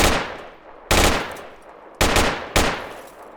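Four sharp, loud M16 rifle shots in the video game Project Reality ring out at uneven intervals, each followed by a decaying echo.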